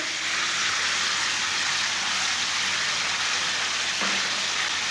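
Finely chopped onions go into a pan of frying mutton and hiss in a loud, even sizzle, with a brief clunk near the end.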